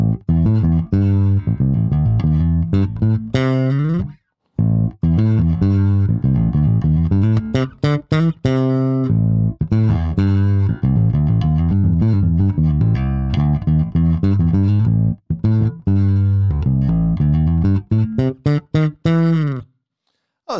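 A Cort GB-Modern 4 bass guitar with both pickups on plays a busy, punchy riff of quick plucked notes with a couple of brief gaps, loud and close with no talk.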